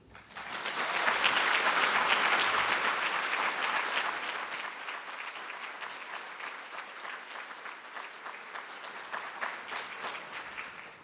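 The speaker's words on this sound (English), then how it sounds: "Let's give another round of applause for Dr. Keeler" Audience at a university diversity forum keynote applauds loudly and steadily, the clapping swelling at the start, holding strong for several seconds, then easing to a sustained, slightly thinner patter.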